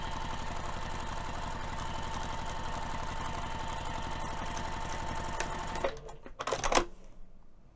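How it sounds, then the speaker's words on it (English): A home sewing machine runs steadily at regular stitch length, stitching the seam of a fabric box pouch with a lace zipper. Its rapid even chatter goes on for several seconds, then stops, followed by a few handling clicks. "I'm going to be sewing using my regular stitch length on my sewing machine"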